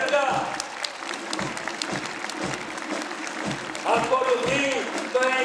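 A crowd applauds schoolchildren marching in the 25 March 2023 independence day parade in Larisa, Greece, with steady clapping throughout and voices and whistle-like tones mixed in over the outdoor din.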